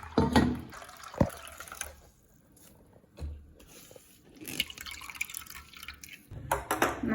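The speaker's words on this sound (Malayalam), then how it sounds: "ഇനി നമുക്ക് രണ്ടാം പാല് പിഴിഞ്ഞെടുക്കാം." Second coconut milk is squeezed by hand from grated coconut, with liquid dripping and trickling in uneven bursts and soft wet squelches between quieter pauses.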